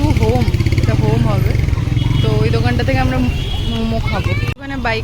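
A motorbike engine idles with a low, steady drone while the rider parks at a busy fair. People talk loudly over it, and the noise drops off abruptly near the end.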